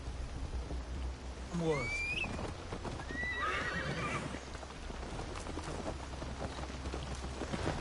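A horse neighs loudly in a rising, quavering whinny about one and a half seconds in. Steady hoofbeats and galloping clatter run beneath it, along with a wash of outdoor ambience, on a ride in the Assassin's Creed Valhalla video game.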